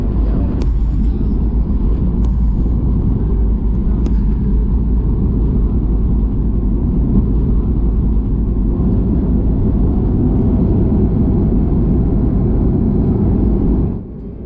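A Southwest Airlines Boeing 737 MAX rolls out after landing, with loud, continuous, low runway and engine rumble that holds throughout and drops off near the end.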